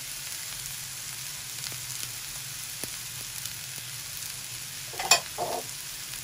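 Carrot, capsicum and cabbage frying on a high flame give a soft, steady sizzle with a brief louder stir or clatter near the end, quiet and without talk.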